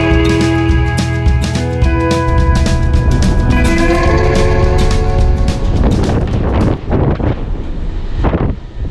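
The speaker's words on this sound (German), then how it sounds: "Fast 100 km/h Wind." Loud, roaring wind of nearly 100 km/h buffets the microphone aboard or beside a ship, a constant heavy rumble with gusty surges and steady tonal hum from machinery beneath.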